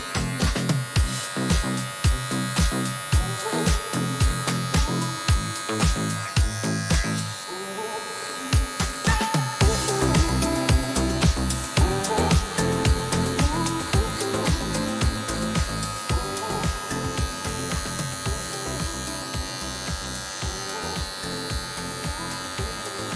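Electric hair clipper cutting hair during a razor-faded haircut, a close steady buzz broken by repeated short strokes and taps as the blade moves, with someone speaking Portuguese over it.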